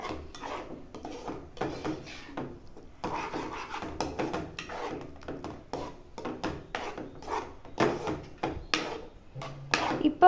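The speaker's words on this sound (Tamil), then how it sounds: "நல்லா கொஞ்சம் கைவிடாமல் கிண்டி விட்டுக்கோங்க." A spoon stirs thickening white sauce for pasta in a pan, making soft, irregular scraping and rubbing strokes that repeat close by for about ten seconds.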